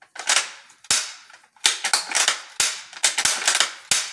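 A Ruger American Go Wild .308 bolt-action rifle has its bolt worked repeatedly, producing crisp metallic clacks and sliding rattles in quick clusters, each ending in a sharp snap, close and loud with no voices.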